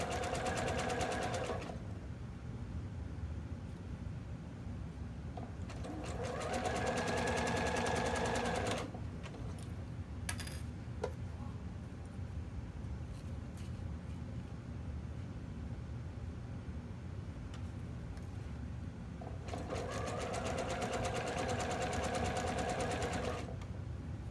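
A sewing machine stitches elastic onto fabric, running in three distinct whirring bursts. Quiet gaps with faint handling noises separate the bursts. The machine is close and moderately loud, with no talking.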